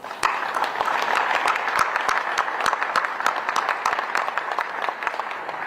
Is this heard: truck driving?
no